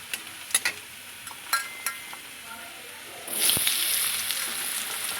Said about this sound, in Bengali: এখানে আমি ফোড়নে জিরে তেজপাতা দিচ্ছি